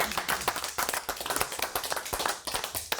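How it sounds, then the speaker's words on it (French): Audience applause during a studio broadcast, a dense, steady patter of many hands clapping close by for a few seconds with no talking. "On peut l'applaudir aussi bien fort."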